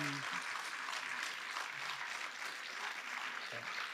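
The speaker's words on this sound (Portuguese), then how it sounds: "anda aqui para receberes uma salva de palmas" Continuous applause from a concert audience welcoming a performer named Daniel, a dense steady patter of many hands clapping for the whole stretch, with a few faint voices underneath.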